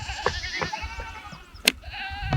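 Goats bleat repeatedly on a farm, several wavering calls spaced across the moment, with a sharper, louder bleat near the end over a low background rumble.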